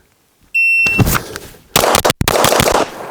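A compensated pistol, either an M&P or a Springfield Echelon, fires a quick string of sharp, loud shots outdoors on a range. A shot timer beeps first, then two bursts of rapid cracks follow.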